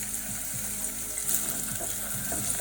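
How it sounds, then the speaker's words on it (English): Onions sizzling steadily in a hot pan, a continuous bright frying hiss with a few soft stirring scrapes. "That's sizzling away nicely."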